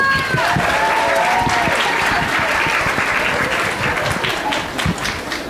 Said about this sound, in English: do you know why we're clapping for you?